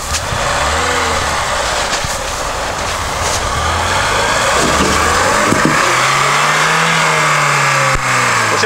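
A 4x4 off-road vehicle such as a Nissan Patrol, Niva, Isuzu Rodeo or UAZ revs hard while climbing an obstacle, its loud engine rising and falling in pitch throughout with no talking.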